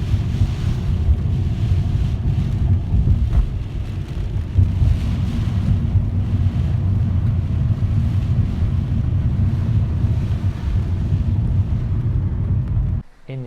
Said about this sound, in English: It's windy, full on, flash flooding everywhere.